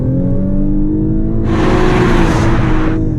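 Lexus LC500h hybrid sports car with a 10-speed gearbox accelerating from a standstill, its engine note rising steadily and swelling into a loud, rushing roar partway through, heard close up without talk.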